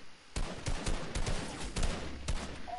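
Video game gunfire during a firefight with a sniper, a series of separated loud shots and short bursts at a moderate distance.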